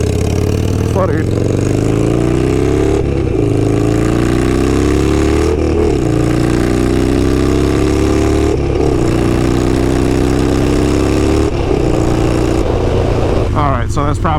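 Harley-Davidson motorcycle fitted with a Kinetic 'The Coil' exhaust, revved repeatedly under heavy load in loud, close bursts that rise and fall with brief dips between pulls, with a voice briefly audible near the end.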